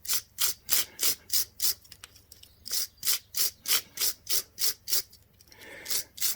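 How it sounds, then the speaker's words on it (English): A wire brush scrubs grease residue from the brake caliper bolt threads of a Honda CB750 K2 front brake, in steady rhythmic back-and-forth strokes, about a dozen of them, close and loud, with a short pause partway through. "So, time for the wire brush again."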